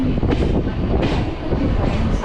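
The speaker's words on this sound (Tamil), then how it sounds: "இப்போ நம்ம அரக்கோணம் ரயில்வே ஸ்டேஷனுக்குள்ள மெதுவா என்டர் ஆயிட்டு இருக்கோங்க." A train rolls slowly into Arakkonam Junction station with a steady rumble, rhythmic wheel clatter and faint squeals of metal, heard close and alone.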